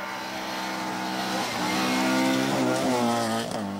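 Opel Ascona A rally car from a 1991 rallisprint stage on a Finnish gravel road in Jalasjärvi, its engine droning steadily and climbing in pitch as it revs and accelerates, sustained and fairly close.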